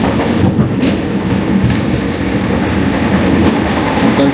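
Former DB passenger carriage rolling on rails near Salzburg main station, a steady loud rumble with rhythmic wheel clatter throughout.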